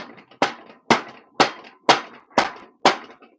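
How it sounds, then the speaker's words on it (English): Six sharp, evenly spaced hammer strikes ring out on a 1987 Honda CR500 engine during teardown, each a loud metallic whack with a short decaying tail, close and alone. "You want to be whacking it with that one."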